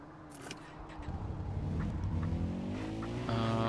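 Quad bike engine in the video game Far Cry 4, rising from a low rumble into a sustained, revving drone as the vehicle accelerates and drives on, fairly close and steady.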